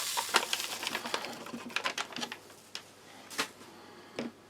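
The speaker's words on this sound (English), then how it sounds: "So this is the orange powder, and pour that straight into a glass." Granular orange drink powder from a US Army hot-weather ration pack is poured straight into a small glass, a close, soft hissing patter broken by scattered sharp ticks and clicks, with no talking.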